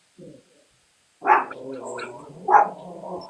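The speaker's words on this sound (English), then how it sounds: "my dog was barking." A dog barks twice, sharp and close, with a faint yip before; no talking.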